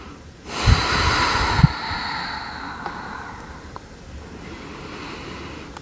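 During a yoga twist, a person takes a close, breathy inhale and exhale with a couple of soft nasal snorts, followed by a long, faint, quiet stretch.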